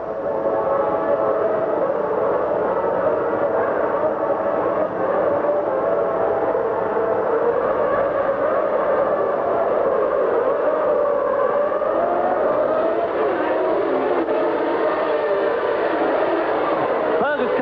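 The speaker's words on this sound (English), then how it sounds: "The cars have come into position. Turn them up. 233 revolutions per second per engine." Formula One cars from 1991 revving their engines on the starting grid at Interlagos for the Brazilian Grand Prix, a dense sustained howl of many engines that shifts in pitch and runs loud throughout with no pauses.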